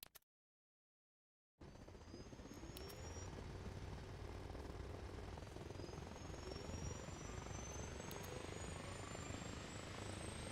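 Helicopter rotor and engine drone in the video game Arma Reforger, cutting in after a brief silence and holding a loud, steady broadband roar with a faint whine throughout.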